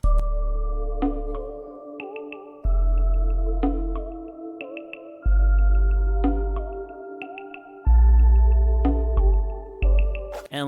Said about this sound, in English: But this is how it all sounds with that, the doorbell introduced into the sample.